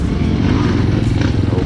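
A motorcycle engine runs loud and close on a night trail ride, a continuous throbbing drone with no break, and no speech over it.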